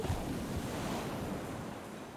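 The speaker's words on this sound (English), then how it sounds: "The water slams against the decks all day?" Ocean waves slam steadily against the decks of a ship, a dense, roaring wash of surf with wind noise, loud and continuous with no pauses or voices.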